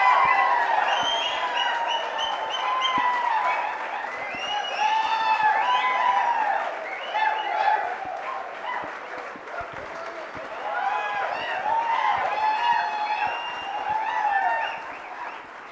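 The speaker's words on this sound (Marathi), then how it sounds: "प्रज्वलसाठी जोरदार टाळ्या झाल्या पाहिजे." An audience at a project competition prize distribution applauds for a winner, with sustained, dense clapping that swells and ebbs, joined by scattered cheers and shouts from the crowd.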